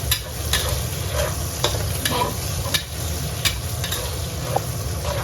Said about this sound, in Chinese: 这个肉啊，一定是越炒越香了，所以我打算给它稍微多煎一会儿